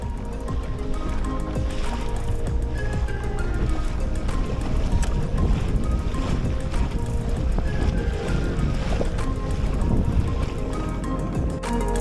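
A sailboat on Lake Ontario moves through the water after catching wind around a point, with continuous rushing water, wind and rigging noise throughout, close and fairly loud, without talking.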